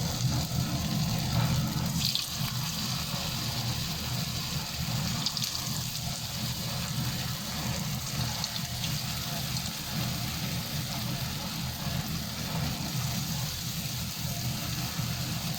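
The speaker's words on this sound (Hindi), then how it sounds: "फ्राई पैन के अंदर पोटैटो बॉल्स ऐड करते जाएंगे एक एक करके।" Potato balls fry in hot oil in a frying pan over a medium flame, a steady, dense hiss and crackle that runs continuously at close range.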